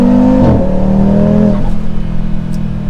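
A 2024 Audi RS3's five-cylinder engine roars close and loud at full throttle, pitch climbing then dropping twice as gears shift, before settling into a steady hard drone.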